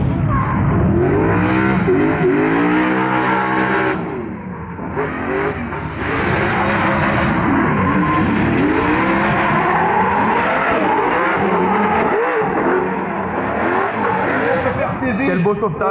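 Race cars roar around a track during a close battle, engines revving and accelerating continuously with a brief tire squeal, loud and near, while an excited commentator talks over the action.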